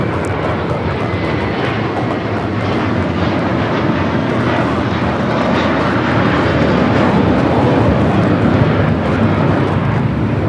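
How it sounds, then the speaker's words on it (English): An American Airlines A321 taking off from LAX bound for JFK, a loud, dense jet engine roar that stays strong and builds slightly toward the end. "This is American Airlines 238 taking off to JFK on the A321."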